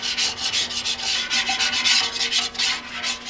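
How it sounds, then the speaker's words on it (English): Paint being sanded off a Kawasaki Ninja motorcycle fuel tank: a steady, close, scratchy rubbing with rapid back-and-forth strokes that keep a quick rhythm throughout, and no voices. "If I were to do all this sanding inside the shop, I would have to dust the whole shop."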